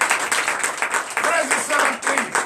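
Church congregation clapping in acclamation during a Sunday worship service, steady rhythmic hand claps running throughout under voices singing or speaking.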